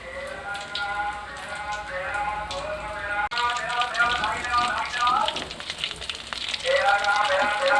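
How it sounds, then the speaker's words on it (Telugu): KFC-style chicken legs deep-fry in oil over a low gas flame, a continuous crackling sizzle like rain, close by, with faint background sounds over it. "చూడండి, నిదానంగా గ్యాస్ సిమ్లో పెట్టి ఫ్రై చేస్తున్నాను."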